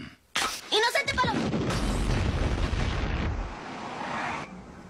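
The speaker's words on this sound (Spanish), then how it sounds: "Parece que hubo una explosión en la casa de los Simpson." An explosion sound effect from a Simpsons cartoon, a sudden loud boom with crackling debris and rumble that sustains for a few seconds before cutting off, with brief voice sounds mixed in.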